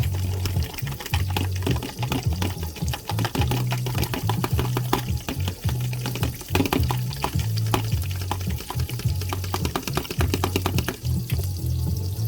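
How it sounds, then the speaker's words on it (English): A whisk or fork beats an egg for Pad Thai, giving a steady, rapid rhythmic tapping and sloshing against a bowl, loud and close with no talk. "Beat this egg up."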